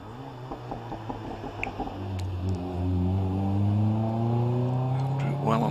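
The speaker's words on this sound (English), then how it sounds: "the Westfield version of David Keeling, gets off the line" A 2-litre Westfield 7 sports car pulls away off the line at a hill climb, its engine note climbing steadily in pitch as it accelerates hard, growing louder and rising through the revs, with a commentator talking over it.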